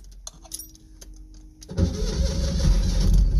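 Old engine on a weak, low battery: a few clicks and a brief, sluggish cranking whir, then a sudden catch into a loud, rough, steadily running idle close by.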